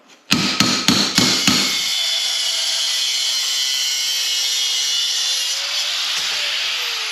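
Several sharp hammer blows ring out close by on a metal bed for a hotrod mini truck in a garage, about five quick strikes in a row. A long ringing metallic decay follows.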